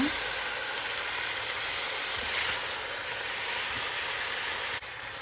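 Chicken frying in browned spices in a pan gives a continuous close, even sizzle and hiss that runs throughout, with a slight swell midway and a sudden small drop near the end.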